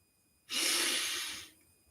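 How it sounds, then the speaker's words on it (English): A single long inhale during a guided meditation, close and soft, rising quickly and fading out over about a second, with no talking over it. "And as we breathe back in,"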